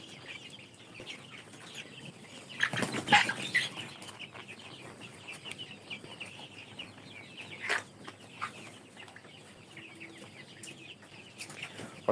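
Farm chickens cluck faintly at a poultry-rearing site, with a brief burst of flapping wings near the start and scattered soft calls over a quiet background.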